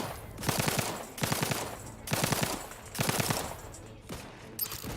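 Bursts of rapid gunfire from a four-shot weapon in the video game Outer Worlds 2, four loud clusters of quick shots separated by short pauses, with no talking.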